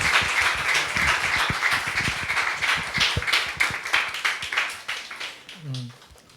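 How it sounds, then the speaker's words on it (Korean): A lecture audience claps to welcome the speaker at an indoor Salvation Army training session, steady mid-loud applause with distinct individual claps that thins out toward the end as a voice begins. "여러분 이제 모실 때 뜨거운 박수로 환영해 주시기 바랍니다."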